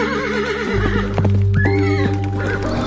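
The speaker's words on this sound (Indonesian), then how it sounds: "Suara ringkih kuda mendekat dengan derapnya yang begitu menggelegar." A horse whinnies loudly and close, then its hooves come drumming nearer in a heavy, thunderous gallop, with no voices over it.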